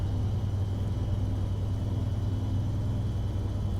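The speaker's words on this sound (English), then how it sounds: "Engine brake really helps us here." Truck engine in American Truck Simulator running under engine braking while hauling logs on a narrow Mexican road, a steady low droning rumble held evenly throughout with no talk.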